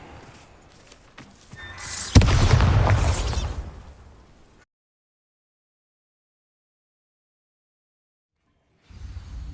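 A Bombarda spell blast in Hogwarts Legacy set in a spider cellar: a loud booming explosion with a crackling, rumbling tail lasting about two seconds, then dead silence before faint ambience returns.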